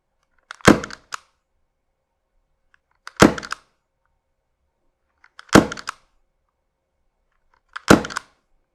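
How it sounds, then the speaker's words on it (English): A Novritsch SSX-23 airsoft sniper rifle fires four times at even intervals of about two and a half seconds. Each sharp close crack is followed by brief mechanical clicks of the reset, with silence between shots. "I'll fire this off, reset it, and then we'll see what the max is"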